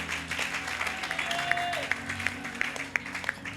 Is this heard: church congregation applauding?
yes